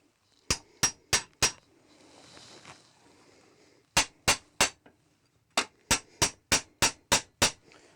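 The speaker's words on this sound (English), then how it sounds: "This is a bit of a wonky dowel, but hey, let's just see if we can tap it through." Wooden dowel tapped with a hammer through a dowel plate held in a vise: four sharp strikes, a soft scraping pause, then two bursts of rapid blows, loud and close with no talk.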